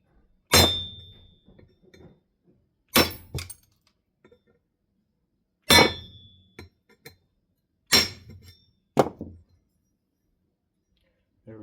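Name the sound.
removing old rivets from steel box fan spider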